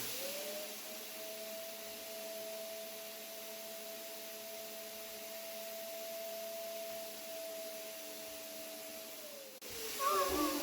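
A household vacuum cleaner runs steadily with a strong whining drone and airy hiss, being used to comb someone's hair indoors, then cuts off abruptly near the end as rustling follows.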